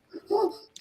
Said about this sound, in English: Somebody's got a dog barking.